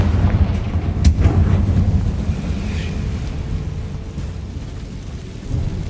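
A Confringo blasting curse in Hogwarts Legacy goes off as a sharp, loud crack followed by a rumbling, thunder-like roar that slowly fades.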